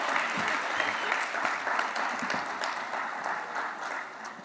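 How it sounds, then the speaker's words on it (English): An audience at an awards gala applauds in a dense, sustained wash of clapping that slowly tapers off toward the end. "Please give her a round of applause"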